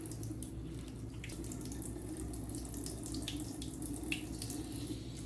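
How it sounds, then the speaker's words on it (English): Tap water runs in a steady, close stream into a sink while a face is rinsed at the end of a skincare routine, with a few soft splashes and no voices. "I always rinse everything off with warm water and then set my face with cold water"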